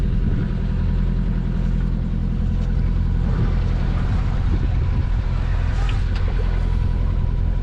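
A sailboat's engine drones steadily while motoring near the Azores in light wind, a continuous low mechanical hum that stays loud and even throughout.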